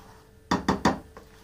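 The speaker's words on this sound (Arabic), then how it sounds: "ودابا غادي نسوسهم هنايا في هاد العجينه" Utensil clinking against a bowl while mixing dried-fruit cake batter, three quick sharp clinks in a row followed by a softer fourth tap, close and distinct over a quiet background.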